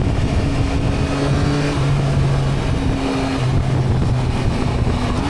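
A 2025 Yamaha Tracer 9 GT motorcycle engine pulls under acceleration, its tone stepping up through a couple of rises beneath heavy, constant wind roar, with no speech.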